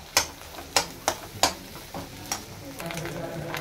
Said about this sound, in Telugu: దీన్ని బాగా ఫ్రై అవ్వనివ్వాలి.